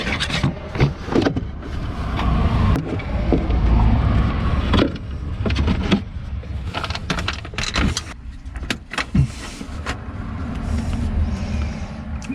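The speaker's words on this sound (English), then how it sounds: "here I'm screwing in the screw at the very top of the bracket" A screwdriver drives a screw into the top of a boot divider bracket in a Mercedes convertible, giving a steady whirring grind broken by clicks and knocks, close up and without speech.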